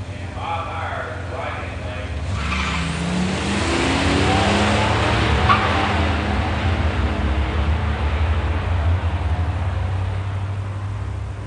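A 1986 Buick Grand National and a 1973 Mustang 351 automatic launch side by side at a pure stock drag race, engines swelling into a loud roar that builds and then holds as they pull away, with an announcer talking over it.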